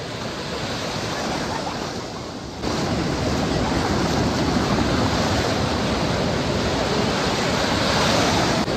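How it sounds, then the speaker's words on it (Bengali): Heavy surf roars without pause on the beach at Puri, a dense wash of crashing waves that swells louder partway through and stays loud to the end. "প্রচন্ড পরিমাণে ঢেউ এই মুহূর্তে।"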